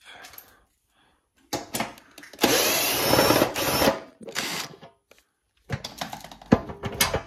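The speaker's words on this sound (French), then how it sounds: "J'utilise la perceuse pour dévisser." A power drill undoes screws on an MZ 125 TS motorcycle, loud whirring bursts in short and long runs separated by pauses, close up and alone.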